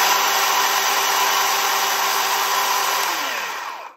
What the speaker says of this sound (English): Run a chainsaw in my basement.